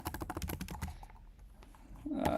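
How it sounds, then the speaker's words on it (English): Fingers type on a computer keyboard in a quick burst of clicking keystrokes, close and crisp, then pause to near quiet before a brief rustle at the end. "It's hard to go back to typing on this keyboard."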